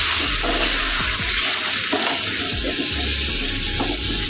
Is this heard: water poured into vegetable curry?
yes